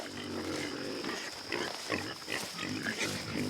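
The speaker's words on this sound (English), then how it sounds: "These Idaho pasture pigs are by far the noisiest pigs we've ever raised." Hungry Idaho pasture pigs grunt and squeal at a farm during morning chores, a cluster of close, overlapping snorts and oinks of varying loudness, with no talking.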